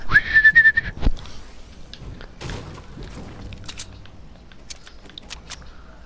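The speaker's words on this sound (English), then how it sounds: "Just whistling." A person whistles a short, warbling tune close up for about a second, followed by faint clicks, taps and shuffling sounds.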